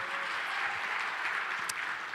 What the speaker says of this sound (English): Give her a round of welcome applause.